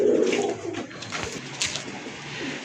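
Golden pigeons cooing close by, a low rolling coo that repeats in soft pulses through the clip, with faint rustling and other bird sounds around them and no voices.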